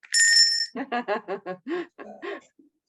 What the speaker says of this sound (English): I've got a bell.